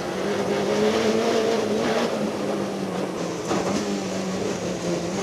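Rallycross cars race around the Mondello Park circuit at a 2005 British Rallycross Championship round, giving a loud, continuous engine roar whose pitch rises and falls through the gears, heard from close trackside with no voices.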